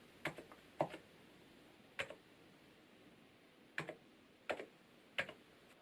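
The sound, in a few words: typing code on Hansung GK898B Bluetooth keyboard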